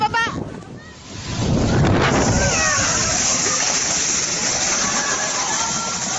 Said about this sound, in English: massive waves surged ashore with unstoppable force.